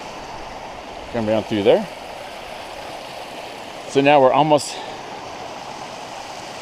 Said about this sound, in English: right here's a spot where you get to cross over a creek. It's a mini little waterfall.